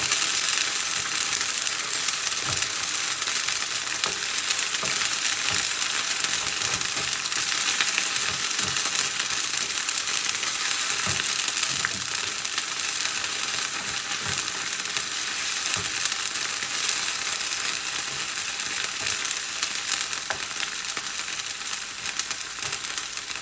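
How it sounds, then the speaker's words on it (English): Ginger garlic paste fries in a pan for an Anglo-Indian chicken curry, giving a loud continuous sizzle with occasional scraping taps of a spoon stirring against the pan. "I'll add the ginger garlic paste. We'll fry this for a few minutes."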